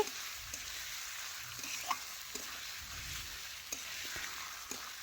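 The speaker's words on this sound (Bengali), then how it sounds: "এখন ভালোভাবে নাড়াচাড়া করে আমি মিশিয়ে নিচ্ছি পেঁয়াজ ও টমেটোর সাথে" Chicken pieces fry with onion and tomato, giving a steady, fairly soft sizzle in a pan, broken by scattered scrapes and taps as the mixture is stirred.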